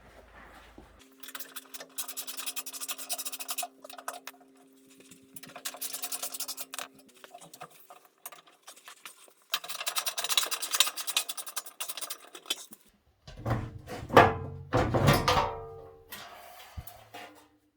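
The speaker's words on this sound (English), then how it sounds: "I'm going to use my ratchet here and just remove the bolts to pull off this front panel" Ratchet wrench loosening bolts on the front panel of an old Kenmore washing machine, rapid clicking bursts in several runs separated by pauses, followed by louder clunks and scrapes as parts shift.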